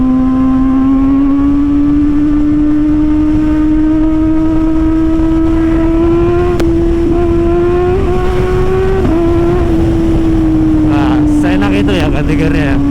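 A Kawasaki ZX6R motorcycle engine revs steadily upward under heavy wind rush, with quick, clutchless quickshifter gear changes briefly interrupting the climbing whine before it pulls on again.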